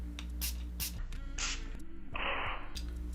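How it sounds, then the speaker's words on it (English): Several short hissing bursts from a perfume bottle, a couple of quick puffs and then longer sprays, close up against a steady low hum. "Let's show you the spray because it's always huge."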